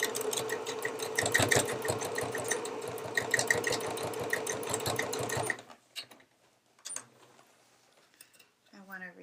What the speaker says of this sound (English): I'm going to back stitch at the beginning and the end and reinforce this stress point.